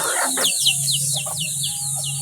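Pet chickens cluck and give quick high chirping calls up close as they scramble for pineapple peels, a busy flurry of short bird sounds over a steady low hum.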